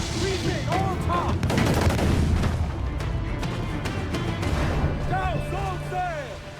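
Ship cannons firing in the naval combat of Assassin's Creed 4 Black Flag, a dense cluster of booming blasts and crackling volleys early on, then scattered shots beneath shouted crew commands and whistling game sounds.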